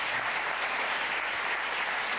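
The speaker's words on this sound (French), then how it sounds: "On les applaudit tous les deux." Continuous, even applause from an audience at a French sports-and-health event, a steady wash of many hands clapping with no voices.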